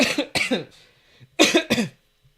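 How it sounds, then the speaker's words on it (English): Two bursts of harsh, close coughing, each a quick pair of coughs, separated by a short quiet gap. "Just when I'm nervous, I tend to cough a lot."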